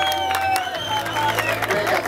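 Crowd applauding and cheering for the men's category finishers at a charity running race award ceremony in Barcelona, a steady wash of clapping under a loudspeaker announcer's voice and some tonal sounds.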